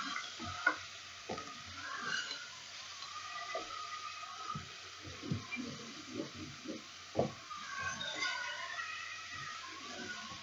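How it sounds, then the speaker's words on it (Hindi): Minced meat with garlic ginger paste sizzles faintly in a pan, broken by intermittent scraping and stirring knocks over a quiet, hissing background. "अच्छी तरह से इसको मैंने भून लिया।"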